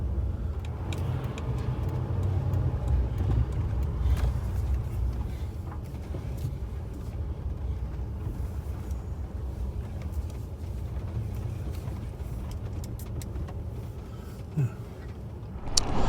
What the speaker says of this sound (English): We've been driving a few miles through this cactus forest.